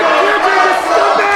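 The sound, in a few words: wrestling crowd jeering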